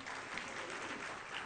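Faint, steady applause from an audience at a public event in Murang'a, heard as a distant, even wash of many hands clapping.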